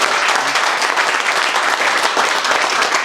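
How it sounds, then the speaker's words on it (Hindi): A room of students at a mobile phone repairing class breaks into loud, dense applause, many hands clapping steadily for about three seconds with only faint voices beneath. "इनके लिए जोरदार ताली बजाइए प्लीज"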